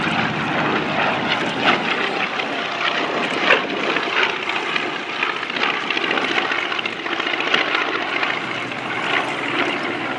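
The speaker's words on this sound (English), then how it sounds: "here comes the B25 in an arcing photo pass" A World War II B-25 bomber makes an arcing photo pass at a New England airshow warbird parade, its loud propeller engines droning steadily with a throbbing pulse and no voices over it.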